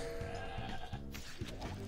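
Goat bleats from the Plants vs. Zombies Heroes card game, with three or four short, wavering bleats in a row over a steady game music bed, fairly close and clear.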